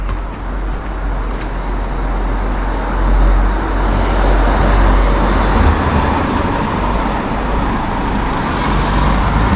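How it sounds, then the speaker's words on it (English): A busy road near Camp Walker in Korea gives off a constant loud wash of passing cars and heavier vehicles, with engine rumble swelling and fading as traffic streams by. "As you can see, this is a busy road."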